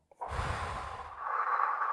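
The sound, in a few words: a deep breath taken during a breathing exercise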